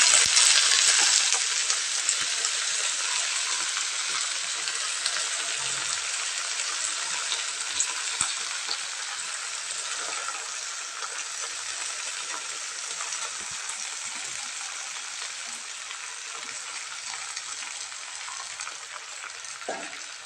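Gongura leaves frying in a pan for a village-style gongura pachadi give a loud, steady hiss and crackle throughout, easing slightly over time, with no talking.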